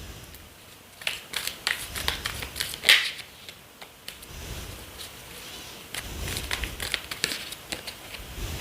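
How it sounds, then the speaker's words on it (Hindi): Tarot cards being shuffled by hand nearby, with bursts of crisp riffling and flicking in two bouts separated by a quieter pause, with no talking. "let's first shuffle the cards"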